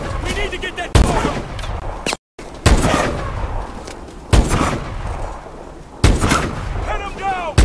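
Gunfire in Call of Duty Advanced Warfare, with four loud, sharp bursts of shots spaced a couple of seconds apart, each followed by a decaying rumble, with shouted voices between volleys.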